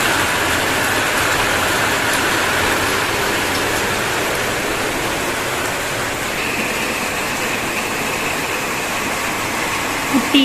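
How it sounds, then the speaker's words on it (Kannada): Heavy rain pours in the evening, a dense, steady roar of water that holds at a constant level for the whole stretch, with no voices. "ತುಂಬ ಜೋರು ಮಳೆ"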